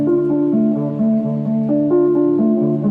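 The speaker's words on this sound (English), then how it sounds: "That's then filtered a bunch with some saturation and a little pitch wobble on there." A guitar arpeggio, heavily filtered with saturation and slight pitch wobble, sounds muffled and warm as its picked notes cycle in a steady repeating pattern, with no other sounds.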